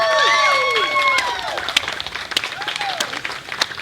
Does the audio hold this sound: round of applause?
yes